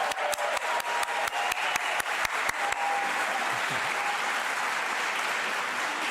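Applause from a large crowd at Penn State Brandywine's spring 2026 commencement: a few sharp, evenly spaced claps that quickly swell into a dense, sustained roar of clapping that carries on steadily to the end.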